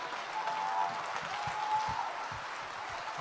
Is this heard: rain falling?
no